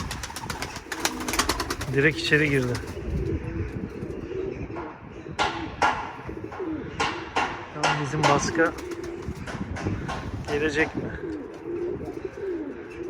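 Pigeons coo softly inside a loft amid sharp clicks and wing flutters, while people talk over them.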